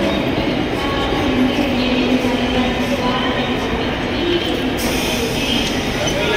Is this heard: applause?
no